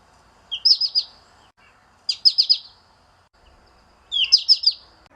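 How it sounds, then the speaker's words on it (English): American goldfinch calls: three bright, high chirping bursts, each a quick run of four or five notes, spaced evenly apart against a faint, quiet background. "People say one of their calls sounds like they're saying potato chip."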